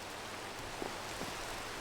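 Steady rain in the Minecraft video game, a soft even hiss of falling drops heard alone, quiet and unbroken.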